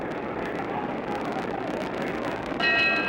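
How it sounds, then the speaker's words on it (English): A boxing bell rings to end round 2 of the Muhammad Ali vs Ernie Terrell fight, a bright ringing that cuts in near the end over a steady, loud arena crowd roar. "There's the bell for round 2."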